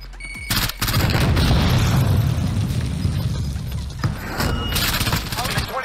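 Frag grenade explosion in the Call of Duty Warzone video game, heard as a loud, dense burst of booms and crackling gunfire that fills the whole stretch, with a brief lull before it and another surge near the end.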